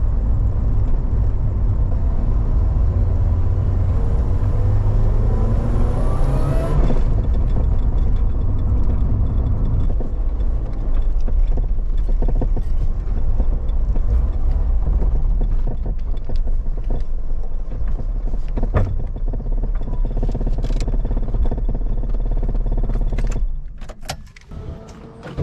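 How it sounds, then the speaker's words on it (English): Supercharged Honda K20 engine in an EF wagon, idling with a low rumble and a rising rev early on, then a rough uneven idle with rattling and clicking from an exhaust leak at the flex pipe, close by. "It also sounds like it has an exhaust leak at the flex pipe"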